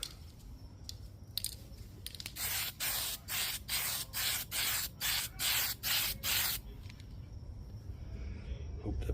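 Aerosol spray paint hissing onto an RC car body for a fourth coat, in a series of about ten rhythmic bursts, each roughly a third of a second, close and loud over a quiet background.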